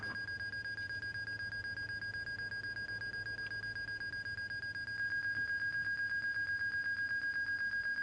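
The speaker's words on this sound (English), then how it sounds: "I don't know why that alarm's going off." A stall warning alarm sounds in a flight simulator game as the flaps are lowered: a steady, high electronic tone pulsing in a fast, even beep rhythm throughout, growing slightly louder partway through, with no talking.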